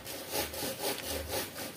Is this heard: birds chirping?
no